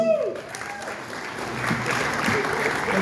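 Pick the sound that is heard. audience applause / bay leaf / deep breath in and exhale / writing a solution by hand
audience applause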